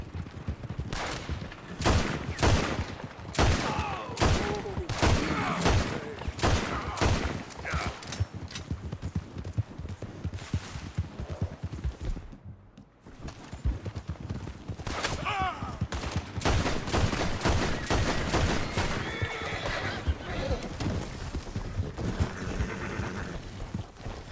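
Gunfire rings out in the video game Red Dead Redemption, with repeated loud shots and rapid bursts mixed with galloping hooves and horse whinnies, continuing through nearly the whole stretch apart from a brief lull.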